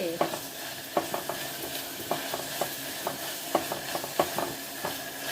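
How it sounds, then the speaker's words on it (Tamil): Ginger and garlic sautéing in a pan for mushroom pulao, giving a steady frying hiss broken by light, regular stirring taps and scrapes, close by with no talking. "இஞ்சி பூண்டு வாசனை போகிற வரைக்கும் வதக்குங்க"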